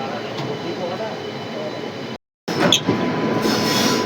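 A passenger train on the Veraval–Bhavnagar line picks up speed again after sudden braking for a cow on the track, with rolling wheel rumble, a brief dropout, then squealing wheels and rattling carriages up close.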